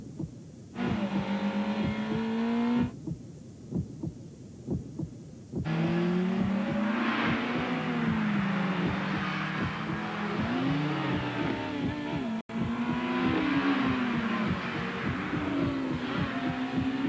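An Acura RSX engine revs and accelerates in a commercial spot, with rising and falling engine tones and pulsing beats, and a brief break midway before the revving resumes.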